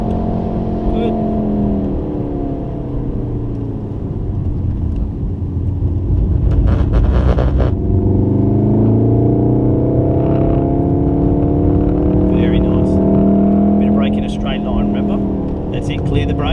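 A Volkswagen Golf R with four-wheel drive is driven hard around a race track, its engine droning loudly and steadily throughout as it brakes and powers out of corners, with a voice talking over it continuously.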